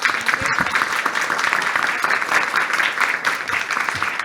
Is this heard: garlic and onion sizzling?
no